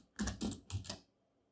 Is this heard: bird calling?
no